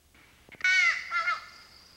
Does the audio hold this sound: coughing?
no